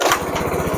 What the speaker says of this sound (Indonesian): Sekarang motor bisa bunyi ya.